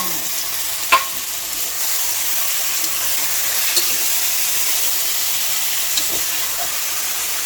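Minced meat kheema fries with tomatoes in a pan, giving a loud, steady hiss and sizzle with occasional knocks of stirring, close up.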